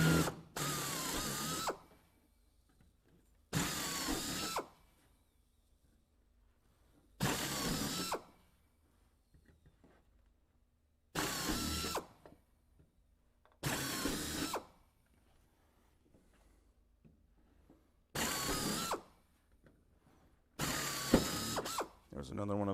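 A pneumatic drill whirs in seven short, loud bursts of about a second or two each, separated by quiet pauses.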